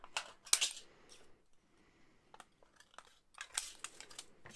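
Scissors snip through thin recycled soda can aluminium, cutting it roughly to size in a few close, crisp crunching bursts separated by quiet pauses.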